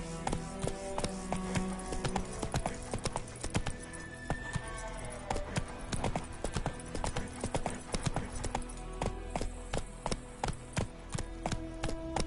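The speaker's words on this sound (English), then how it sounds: "Whoa there, Roach" Horse hooves clip-clop steadily in The Witcher 3: Wild Hunt on PS5, a continuous rhythmic trot that runs throughout, with no speech over it.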